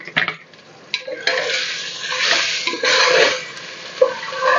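Three chopped tomatoes are stirred and fried in a hot pan, a close sizzling hiss with scraping spoon strokes that swells and eases in waves over a few seconds.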